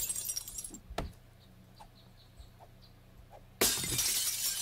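Glass shatters in the video game 7 Days To Die, one sharp crash followed by scattered tinkling fragments and faint chirps, then a loud burst of noise.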